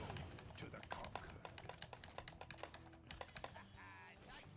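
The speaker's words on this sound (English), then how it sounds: "Sorry that you guys can probably hear my keyboard a lot." Rapid clattering keystrokes on a computer keyboard during a Heroes of the Storm match, with irregular bursts of clicks close to the mic alongside game sounds and a voice talking.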